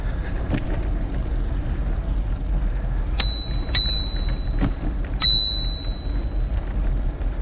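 A Brompton bicycle's bell rings three times along the Oxford Canal towpath, bright and close, with the last ring trailing off longest, over quiet outdoor background with no talking.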